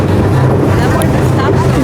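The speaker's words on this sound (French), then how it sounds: "Je sais pas si on va m'entendre parce qu'il y a grave du vent." Strong wind buffets the microphone on a boat at sea between Abu Dhabi and Dubai, a loud continuous roar with engine and water rumble beneath it throughout.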